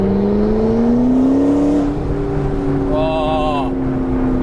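A McLaren 650S Spider on the move, its engine drone steady and close with exhaust note and turbo whir rising and falling, a brief higher whine partway through, wind rushing over the open roof.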